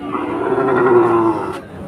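A single long, low moo from a cow at a cattle market in Chuknagar rises and holds for about a second over faint background murmur, fairly close.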